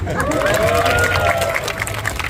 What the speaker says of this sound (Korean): 맞으면 박수